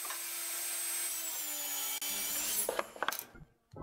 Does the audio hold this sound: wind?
no